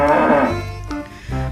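A toy cow lets out a loud, drawn-out electronic moo that fades over about a second, followed by a brief quieter tail of sound.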